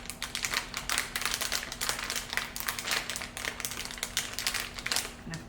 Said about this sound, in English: I actually really love the sounds of the crinkle of the paper